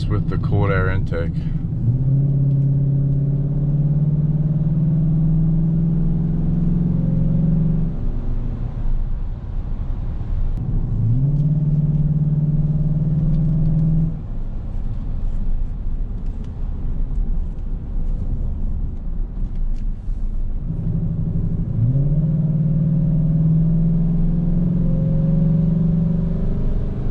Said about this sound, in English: When it shifts down and it's like kind of lower RPMs, it really rumbles now.